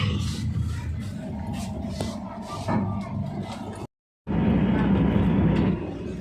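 An Indian passenger train between Tinsukia and Karimganj rumbles steadily from inside a carriage, a low continuous roar with a brief dropout, while a voice talks over it.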